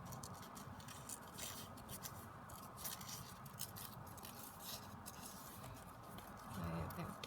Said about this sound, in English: So just quickly fussy cutting these flowers out.